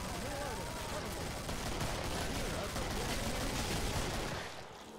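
Rapid gunfire from a video game of Killing Floor, a dense continuous stream of shots filling the whole stretch at steady loudness, easing slightly at the very end.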